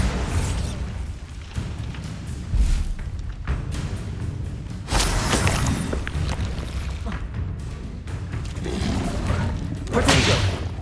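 Bombarda blasting spells in Hogwarts Legacy burst out in several heavy booms with whooshing swells between them, loud and close across a busy stretch of combat noise.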